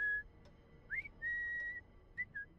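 A character in the video game Assassin's Creed Syndicate whistles a handful of short, clear tonal notes, some sliding upward and one held longer, alone over a faint background.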